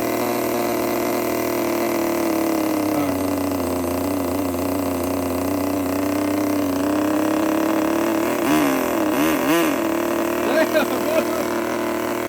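A vintage Kyosho GT nitro RC car engine runs at a steady buzzing idle close by, its pitch wavering slightly and briefly warbling near the end, with a voice talking faintly underneath part of the run.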